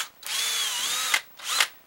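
A power drill whirs into a wooden crossbow stock in two close bursts, redrilling the same hole, the motor pitch bending under load before stopping, with a short pause between.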